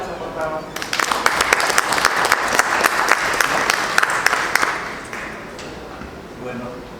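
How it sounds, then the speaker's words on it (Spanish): An audience at a commemorative event breaks into loud applause, a dense burst of many hands clapping at close range that swells, holds for several seconds and then fades out, with voices around it. "Un fuerte aplauso, por favor."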